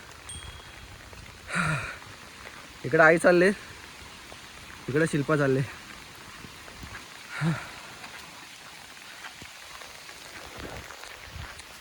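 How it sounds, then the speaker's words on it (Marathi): Heavy monsoon rain pours steadily on a slippery village path, a constant hiss throughout with a few people's voices talking over it in short bursts. "पहिला टन पार केला आणि पावसाने सुरुवात केलेला आहे जोरात"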